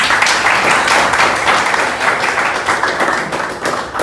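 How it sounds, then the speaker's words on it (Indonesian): A classroom of students breaks into loud, dense applause, many hands clapping together close by, which tapers slightly at the end. "tepuk tangan luar biasa"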